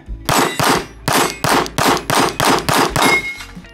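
A Glock 19 Gen 5 pistol fires about ten rapid, evenly spaced shots, each a loud, close, sharp crack with a ringing metallic tail, then the sound stops.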